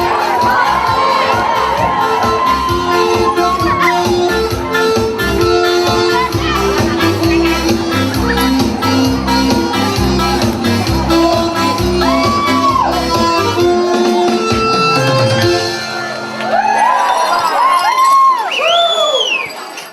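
Pomeranian wedding guests at a crockery-smashing tradition raise a loud, continuous crowd din of shouting, whooping and cheering, with voices rising over a dense mix of music and noise throughout.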